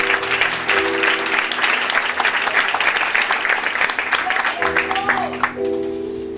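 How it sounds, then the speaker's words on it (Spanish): A church congregation at a Spanish-language worship service breaks into loud, dense applause for the Holy Spirit. The clapping holds steady for several seconds with voices and tones running beneath it, then thins out toward the end. "Denle un aplauso al Espíritu Santo"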